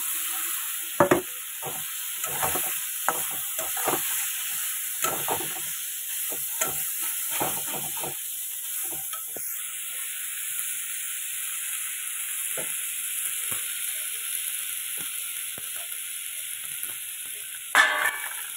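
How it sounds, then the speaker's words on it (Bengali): Fried pointed gourds are stirred into a sizzling spice masala in a pan, giving a long steady hiss and crackle punctuated by repeated scrapes and knocks of the spatula, louder near the start and end. "এবার এই যে ভেজে রাখা পটলগুলো দিয়ে দিচ্ছি"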